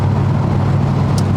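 Datsun 240Z on a parade lap of the Albert Park Grand Prix circuit, its engine a steady, loud low drone throughout with road noise and no speech.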